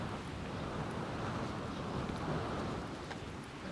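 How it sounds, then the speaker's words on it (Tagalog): Strong wind gusting across a beach in Calatagan, Batangas, a loud, steady roar of rushing air and buffeting microphone noise with no talking. "Masyadong malakas ang hangin."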